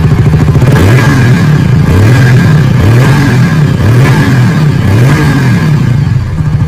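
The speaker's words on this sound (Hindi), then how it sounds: "जैसा कि OBD2 वाला मॉडल है तो इसका जो इंजन का साउंड है वो भी थोड़ा सा रिफाइन हो चुका है" A Yamaha R15 V4 BS7 (OBD2) motorcycle engine runs loud and close through its exhaust, revving up and dropping back in a regular repeating cycle, with no voices.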